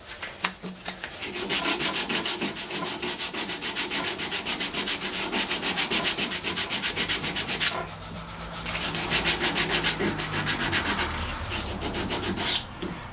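Wood hand-sanded with a piece of 80 grit sanding belt during a five-leg table restoration, a close, loud rhythmic back-and-forth rasping in fast even strokes, pausing briefly before resuming, with no talk.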